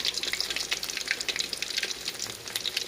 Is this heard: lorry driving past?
no